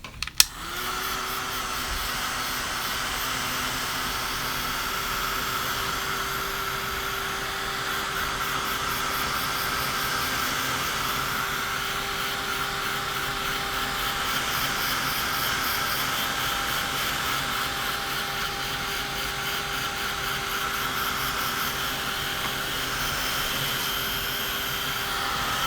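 A handheld heat dryer blows steadily and loudly for nearly half a minute over wet ink and crackle texture paste, a constant close whirring hiss with a faint tonal hum, starting with a click and running unbroken.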